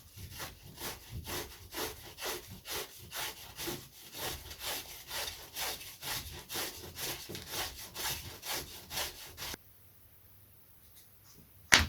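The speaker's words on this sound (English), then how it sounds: "It's just shaving and shaping it." Wood is shaved and shaped by hand for a vintage Lunak aerobatic model glider, with steady rhythmic rasping strokes, about two per second, close and alone, before stopping into near silence and a final knock.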